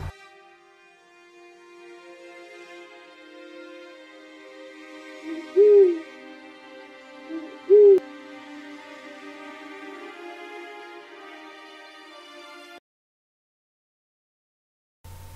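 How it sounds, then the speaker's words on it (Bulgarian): An Asian brown hawk-owl, a medium-sized nocturnal owl, gives two short, low hoots a couple of seconds apart, standing out over a steady droning tonal background. "Азиатската кафява улица е средно голяма сова."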